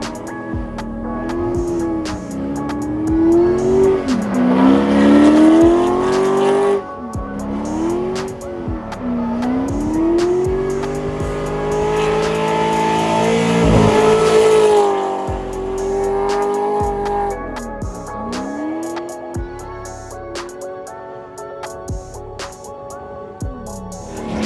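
Corvette at a drift track day, engine revving up and down in long sweeps with repeated tire squeal and skidding, loud and sustained throughout with no talking.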